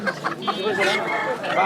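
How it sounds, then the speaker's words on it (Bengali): At a village poultry market, a rooster and hens cluck and call loudly close by in a series of short bursts, with people talking under the bird sounds. "একটা মোরগ 4টা মুরগি।"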